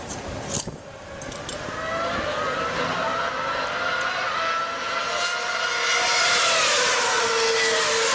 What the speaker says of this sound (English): A crewman polishes the windshield as Holland moves away just 67 seconds after he stopped